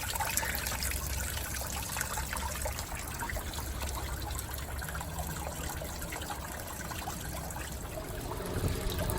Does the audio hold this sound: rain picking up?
no